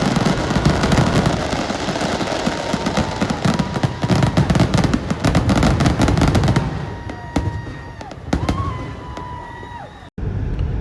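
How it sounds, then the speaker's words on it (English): Fourth of July fireworks burst loudly and continuously, a dense crackling barrage of booms and pops that thins out toward the end into scattered separate bangs. "let's enjoy these beautiful 4th of July fireworks."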